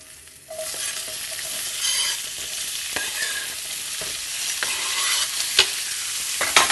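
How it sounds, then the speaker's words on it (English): Peppers and onions dropped into hot oil in a pan, bursting into a loud, dense, continuous sizzle up close, with a few utensil clicks and no voices. "Put a little more oil in there, and then our little peppers and onions right into the pool."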